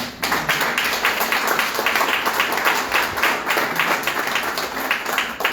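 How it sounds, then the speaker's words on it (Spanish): A church congregation applauds in a lively, rhythmic way, with many hands clapping in quick, roughly even beats for over five seconds, close and steady, with no talk over it. "Mándale un aplauso al que vive reina."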